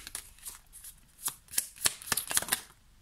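Tarot cards shuffled and drawn by hand at close range, a run of crisp, quick riffling snaps and slaps in irregular bursts against a quiet background, with no one speaking.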